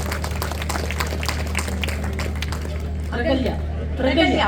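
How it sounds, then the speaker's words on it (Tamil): Scattered clapping from the audience at a Tamil debate program, rising briefly toward the end, with crowd chatter and a low steady hum underneath and voices speaking over it. "அகல்யா பாப்பாக்கு எல்லாருமே நல்ல ஒரு பெரிய கைத்தட்டல் கொடுங்க"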